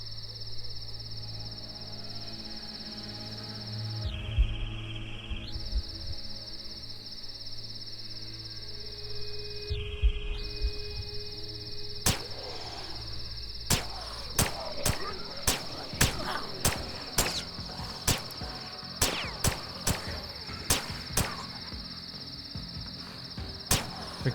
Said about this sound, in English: Freaking cicadas, dude.